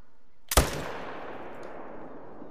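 A single sharp, loud rifle shot from an AR .300 in a hunting video game cracks once, then a long rolling echo fades away across open terrain.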